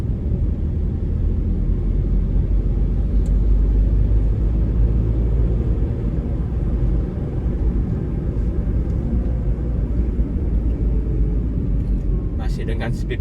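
A Daihatsu Sigra M 1000cc car cruising in 4th gear at about 40 km/h, with a steady low engine and road rumble filling the cabin throughout and a few faint clicks near the end.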